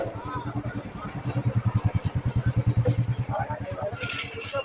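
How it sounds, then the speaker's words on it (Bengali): The MV Baitarani ferry launch nears the Uluberia ferry ghat, its engine giving a steady, rhythmic low thumping that swells as it approaches, with crowd chatter and people talking over it. "লঞ্চ আসছে, দেখো কত লোক আছে ওর মধ্যে।"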